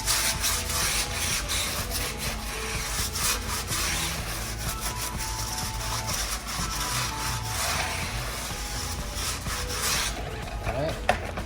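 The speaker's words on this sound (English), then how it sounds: "first I'm gonna start with the hard bristle brush for the tire" A hard bristle brush scrubs a car tire on a ceramic coated car, rapid rhythmic rasping strokes close up, continuous scratchy friction with no talk.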